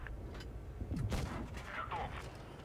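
A single heavy cannon shot booms from an IS-5 tank in World of Tanks Blitz, rising briefly above a steady rumble of battle ambience.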